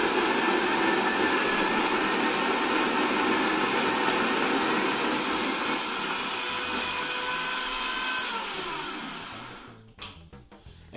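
A coffee grinder grinds beans to a medium grind, whirring loudly and steadily for about ten seconds, its motor pitch dropping slightly before it cuts off into brief clatter.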